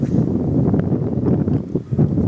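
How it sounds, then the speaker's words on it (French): Steady wind rushing and buffeting against the microphone in Kalpetta, Kerala, India, a constant low roar with occasional gusty thumps. "il faisait bien chaud, mais là, le petit vent s'est levé"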